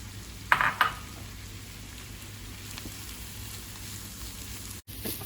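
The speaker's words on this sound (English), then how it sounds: "we're just gonna stir the shish barak so it doesn't burn" Shish barak fries in a pot with a soft, steady sizzle, while a spoon clinks against the pot twice near the start.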